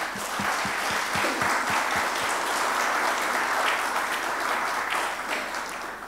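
Sustained audience applause at a Prime Minister's speech during a PALOP–Timor-Leste–EU ministerial meeting, a dense steady wash of many clapping hands held at full level for the whole stretch.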